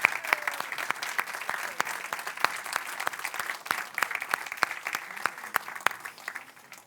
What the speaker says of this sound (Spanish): por favor, si les podéis dar un aplauso a todos, que se lo merecen